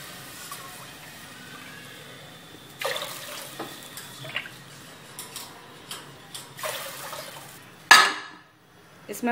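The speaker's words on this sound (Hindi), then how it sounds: "इसमें मैंने 7 कटोरी पानी डाल दिया है।" Water is poured into a cooking pot for moong dal khichdi, with quiet intermittent splashing bursts and a few soft clinks against the pot, alone in a fairly hushed kitchen.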